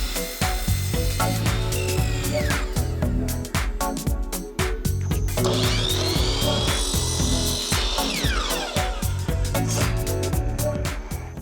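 A power saw cuts pieces of wood box trim for a living-room TV wall, sounding as loud repeated bursts of whining blade noise with short pauses between cuts and mechanical rattling throughout.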